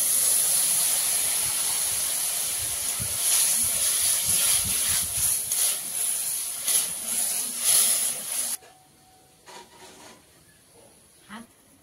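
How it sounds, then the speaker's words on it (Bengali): Sour curry broth with prawns and red sour okra boils in a pot, giving a steady hissing, steaming rumble that cuts off abruptly partway through and leaves only faint, quieter bubbling. "টক তরকারির ঝোলটা ফুটে উঠেছে"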